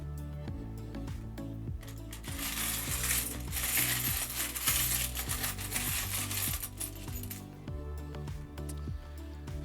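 Older pre-decimal coins, including half pennies, are sorted by hand during a coin hunt, producing a busy stream of close metallic clinks and jingles that thicken into a dense rattle in the middle.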